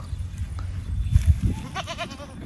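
A goat bleating on a goat farm, a short wavering near bleat after low handling noise and a brief voice.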